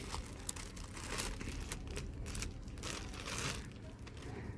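Close, continuous crinkling of a plastic packet, with soft rustles and a few sharper crackles throughout.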